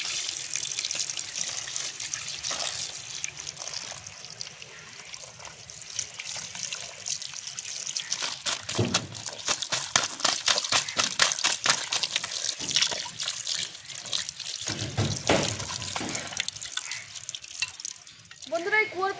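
Cut tilapia pieces are rinsed under running water, with a continuous splashing, trickling stream and rhythmic handling bursts in the middle; no one speaks.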